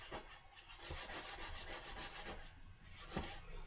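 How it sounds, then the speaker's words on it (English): Coarse 60-grit sandpaper is rubbed over wood, making soft, faint, steady scratchy strokes in a quiet room with no voices. "I have actually some 60 grit."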